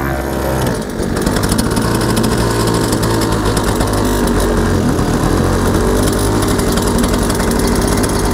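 A cheap small outboard motor on a tiny boat warms up with a steady, close, buzzing engine drone that holds an even pitch and loudness throughout, with no talk.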